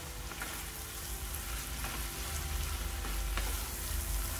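Shredded parotta and capsicum are stirred together in an oily pan, giving a steady soft sizzle with faint scraping strokes as the mix is turned, close and even throughout, with no talking.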